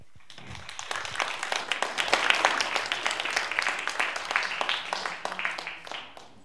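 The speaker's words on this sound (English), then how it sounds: "please join me in welcoming Mr. Kelly Pender" Audience applause welcoming a speaker at a Queen's University policy talk: dense crowd clapping that swells quickly, holds steady and then thins out toward the end.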